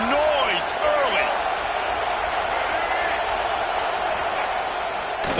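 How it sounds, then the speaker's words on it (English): A football stadium crowd makes a constant, loud roar of noise and cheering early in the game, a dense wall of sound with no clear breaks. "This crowd bringing the energy and noise early."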